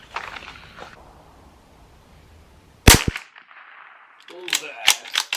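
Bergara B-14R .22LR rifle firing Norma Tec 22 ammunition, with one sharp close shot followed by several quick metallic clicks and clanks, likely bolt cycling.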